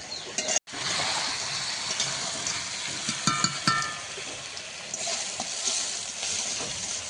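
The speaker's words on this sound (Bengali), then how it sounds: "মাংসটা কষানো চলছে আর আলুটাও তুলে নিলাম।" Home-raised rooster meat sautéing in a pan, a steady loud sizzle with occasional stirring clatter and no voices.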